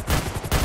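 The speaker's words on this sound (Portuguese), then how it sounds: "Tiro." Rapid bursts of loud gunfire in GTA 5 roleplay blending into a dense, continuous barrage, with no voices.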